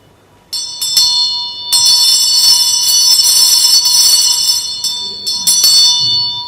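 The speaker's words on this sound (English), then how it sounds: "So the Vajra bell" A Vajra bell rings with a bright, sustained metallic tone, struck a few times in quick succession at the start and then left to shimmer steadily, loud and close.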